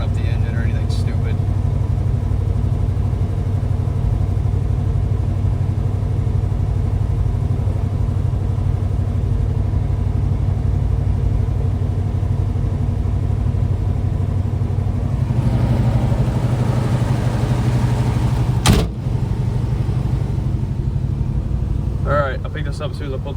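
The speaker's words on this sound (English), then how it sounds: "this is the engine. This is a 355" A Chevrolet Camaro Z28 with a 355 V8 runs steadily at idle, a loud, continuous low rumble close by with a brief sharp transient near the end and no change in pitch.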